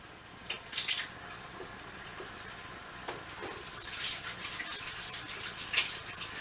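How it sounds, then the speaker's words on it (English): Hands being washed under a running sink tap in a home kitchen, with faint water flow and intermittent splashes and rubbing sounds, quiet and close, no speech. "let me put that in the sink and wash my hands a minute."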